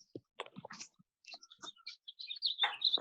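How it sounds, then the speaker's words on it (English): Birds chirp in quick, bright, scattered tweets near a town council work session, faint but distinct among clicks and soft room noises. "Who's got the birds?"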